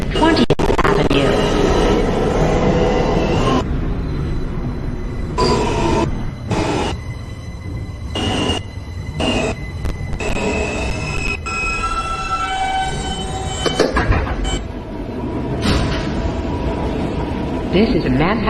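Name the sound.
New York subway N train running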